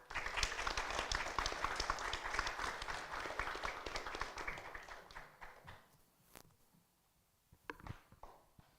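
A small audience gives a capstone presenter a round of applause, a burst of quiet clapping that fades after about six seconds into a few scattered taps and rustles.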